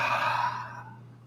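A single deep exhale during a yoga session, a breathy sigh close to the mic that fades out over about a second.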